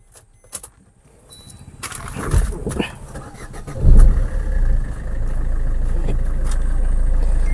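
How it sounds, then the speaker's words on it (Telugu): A Maruti Suzuki Ciaz car engine cranks and catches after a few clicks and knocks, then settles into a steady, close, low idle rumble that holds to the end. "ఒకసారి ఇంజిన్ కూడా స్టార్ట్ చేసి చూపిస్తాను"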